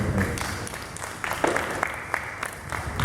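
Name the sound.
applause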